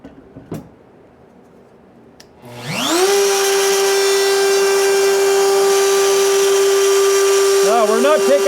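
A bandsaw's motor spins up from near silence and settles into a steady, loud high whine, ready to rip wood, with a slight wavering near the end as the blade loads.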